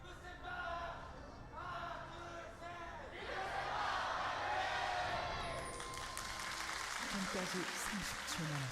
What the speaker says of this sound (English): There was some interesting sounds during that fan cheer.